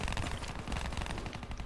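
Rapid bursts of video game gunfire in a 2v2 match, a dense rattling volley of shots continuing steadily at moderate loudness with no talk over it.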